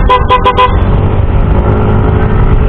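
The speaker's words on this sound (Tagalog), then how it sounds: "TDD Night Ranger nakakonect yung ating PIA horn. So pag pinatunog natin siya, iilaw yung yellow." A PIA horn wired to a TDD Night Ranger motorcycle sounds four quick loud honks up close, followed by steady traffic and engine noise.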